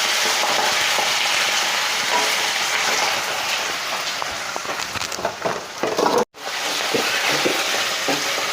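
Bhringraj leaves frying hard in hot oil for a pickle, a steady loud sizzle with sharp spattering crackles, briefly cut off near the end before resuming at full strength.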